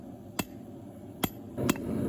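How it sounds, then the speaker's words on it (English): Hammer with cross peen striking a steel saber-type knife blade on an anvil during forging, three sharp metallic blows spaced irregularly over steady background noise. "using the cross peen on my hammer to draw out the metal"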